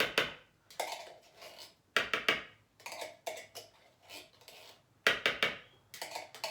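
Canned pumpkin being scraped out of the can and mixed in a bowl: bursts of scraping and clinking of a utensil against metal and bowl, repeated in irregular strokes with short pauses, close up.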